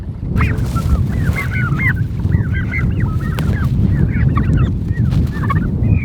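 Homestead poultry call out continuously, with turkeys gobbling and geese-like honking in repeated rapid bursts over a steady outdoor background noise, fairly close and loud throughout.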